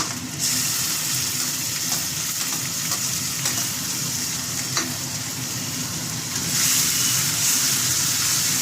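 Tomato tipped into a pan of ginger already frying in hot oil for a Bengali dhoka curry, giving a steady, close sizzle with faint stirring scrapes that swells louder near the end, no talking.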